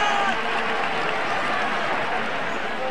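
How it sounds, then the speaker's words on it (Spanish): Crowd ovation for the Spanish national football team after their Euro 2000 qualifying win over Austria in Valencia, a steady, dense wash of applause and cheering from a large stadium audience throughout, with no pause. "el público les está ovacionando"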